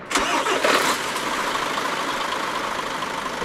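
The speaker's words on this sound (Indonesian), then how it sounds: "Sesampainya, kita nyalain dulu mesinnya." A bus engine starts up in Euro Truck Simulator 2 with a quick cranking burst, then settles into a steady mid-pitched idle that continues alone.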